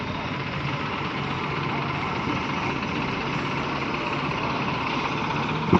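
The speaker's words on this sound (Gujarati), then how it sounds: "એક ટ્રેક્ટર આવી ગયું છે ગાંડિયું લઈને." A tractor engine runs steadily at a market yard, a continuous low rumbling drone of moderate loudness that holds even throughout amid general yard noise.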